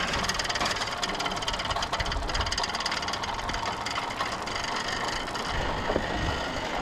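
Turbo EFI 660 lawnmower engine running on only one fuel injector, a continuous rough, rattly mechanical clatter at steady loudness throughout.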